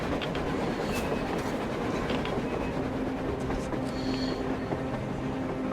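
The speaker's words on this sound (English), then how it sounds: "A train! A damn train on the surface!" A train rumbling along tracks on the surface in the Metro Exodus game, a steady, dense rolling roar with faint clattering and the odd high metallic squeal, continuous and fairly close.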